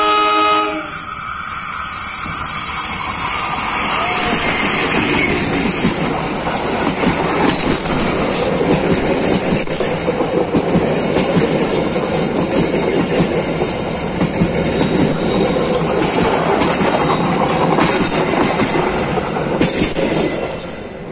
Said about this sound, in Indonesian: Baru saja melintas kereta api Kuto Jaya Selatan